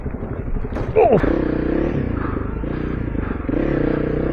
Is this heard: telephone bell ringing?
no